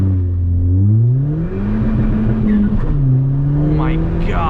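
Ford Fiesta ST with an E30 tune doing a launch control start, the engine revving hard and climbing through the gears in a loud rising roar from inside the car, with a shift and tire noise.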